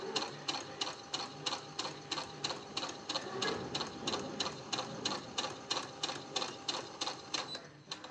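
A sewing machine stitches a quilt block in a steady, fast run of rhythmic mechanical clatter, close and continuous throughout with no talk.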